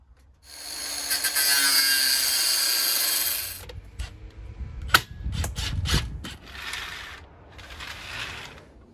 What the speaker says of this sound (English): Drilling through into the roof